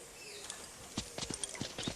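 Horse hooves clip-clopping on a ride along the sea, a few irregular, fairly close thuds picking up in the second half over faint ambient background.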